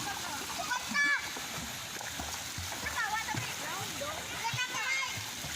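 People splash about while swimming at Tagbibinta Falls, with a steady background rush of falling water and excited voices of children and adults talking and calling throughout.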